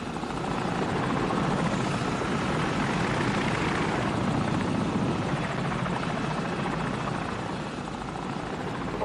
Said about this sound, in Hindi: हेलीकॉप्टर आ गया।